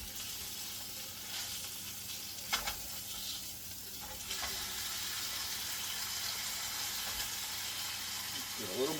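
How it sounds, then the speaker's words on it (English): Meat sears in a hot pan for a Christmas dinner, giving a steady bright sizzle throughout, with a few brief stirring knocks and a louder crackle after the midpoint, close and alone without talk. "Searing the Meat"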